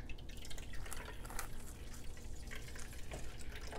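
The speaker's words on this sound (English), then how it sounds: "you're just going to literally squeeze this bag" Nut milk streams and drips out of a squeezed nut milk bag into a container, a dense close-up patter of irregular liquid drops with no talking.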